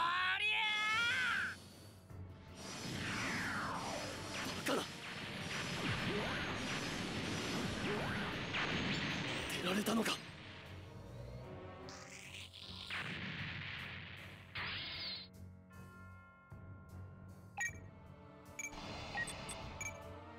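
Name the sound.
NGN missile fire and explosions in SD Gundam G Generations Crossrays video game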